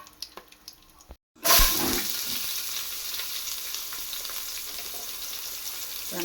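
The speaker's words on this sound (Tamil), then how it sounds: "அவ்வளோதான், கொஞ்ச நேரம் வதக்குறோமா." Whole spices, including mace, drop into hot oil for a prawn biryani. After a moment of quiet, the oil bursts into a loud sizzle that then settles into a steady frying crackle.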